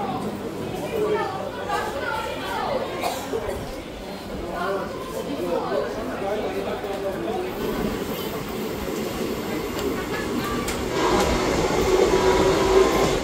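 The 13187 Maa Tara Express pulls away from platform 2 at Tarapith Road station, a continuous rumble and rattle of rail cars under steady chatter from passengers inside the coach, growing slightly louder toward the end.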